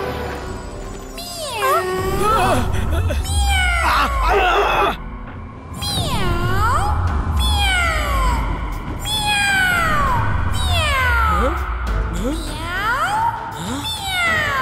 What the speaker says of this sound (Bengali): এই বিড়ালের ডাক কোত্থেকে আসছে?